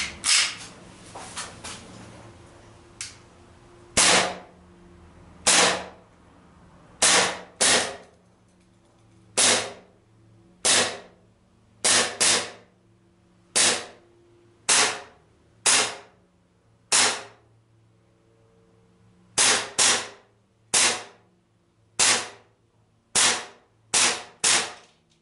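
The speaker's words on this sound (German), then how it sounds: "Ich schieße aus 8 Meter Entfernung. Ein volles Magazin." Sig Sauer P226 X-Five CO2 pistol shooting 4.5 mm steel BBs standing freehand from 8 meters, a full magazine of about eighteen sharp loud cracks at uneven intervals, each followed by quiet.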